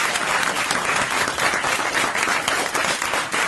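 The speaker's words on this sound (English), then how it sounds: "you can applaud for that" Dense, steady applause from a live comedy show audience fills the room continuously, loud and close, with no talk over it.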